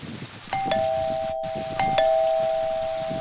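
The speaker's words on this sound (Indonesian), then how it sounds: "Aku terkaget saat bel rumah menyala." A house doorbell rings twice, each press giving a clear two-tone electronic chime that sustains and slowly fades, heard alone against quiet room background.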